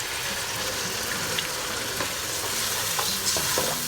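Boiled water is poured into a pan of sizzling pangas fish curry, making a close, steady, bubbling hiss with soft scraping stirs and small pops.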